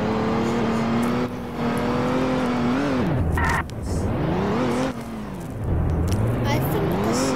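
A burning car in a video game drives with a steady engine drone whose pitch rises and falls through several revs and gear changes, loud and close, with talk heard over it.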